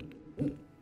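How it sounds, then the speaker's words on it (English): An owl gives a single soft hoot, low and faint, standing alone in the quiet. "That's an owl."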